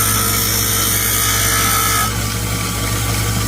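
A grinder works on a steel war spike with a continuous loud, close whine and grinding hiss, and the pitch drops slightly partway through as the tool bears against the metal.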